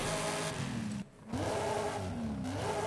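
A V8-swapped Bronco with a race intake and stock exhaust revving hard in Forza Horizon 5, a loud, steady engine drone that dips briefly mid-clip before climbing back up in pitch.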